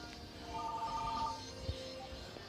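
Telephone ringing with a short electronic warbling tone in the middle distance, heard under a faint hum of room noise.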